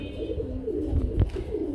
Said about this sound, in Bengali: খুব সুন্দর এক জোড়া বড় পায়রা রয়েছে